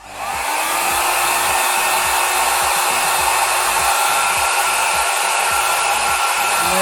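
A GoGo Mini hair dryer blows continuously at close range, a loud steady whoosh with a fan whine, used to dry mid-length hair; no one speaks.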